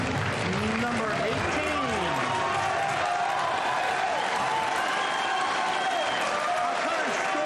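A large crowd at a professional pool match at the US Open claps and cheers steadily throughout, with a commentator's voice running underneath the continuous applause.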